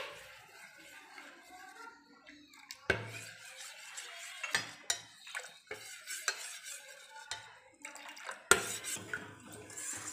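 A spoon scrapes and clinks around a bowl while mixing appam batter with water, in irregular strokes, with soft sloshing and sharp knocks against the sides, fairly close.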